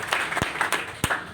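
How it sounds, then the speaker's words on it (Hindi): Audience applause at a Hindi-language literary gathering welcoming its guests, a dense, steady patter of many hands with a few sharper claps standing out, moderately loud and close, without speech. "हम आपका स्वागत करते हैं और तालियां बजाते हैं"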